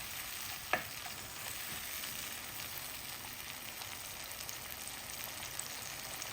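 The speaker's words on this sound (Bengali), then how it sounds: "দিয়ে দিতেছি 1 চা চামচ রসুন বাটা, দিয়ে ভালো করে মিক্স করে নিতেছি।" Browned onions and garlic paste being stirred together in a pan for a fish curry with eggplant and potato, a steady soft sizzle with a single sharp scrape of the spoon near the start.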